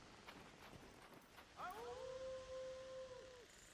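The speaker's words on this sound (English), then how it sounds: "Can you hear his howls in the distance?" A distant wolf-man howl from the woods in ARC Raiders, a single long, rising then sustained wail that starts at about 1.6 seconds over low ambient background noise.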